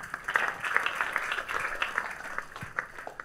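Church congregation clapping, a scattered, moderately loud patter of hands with uneven rhythm and some distinct individual claps, sustained throughout.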